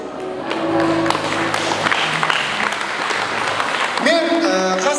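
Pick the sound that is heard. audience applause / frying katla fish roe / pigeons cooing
audience applause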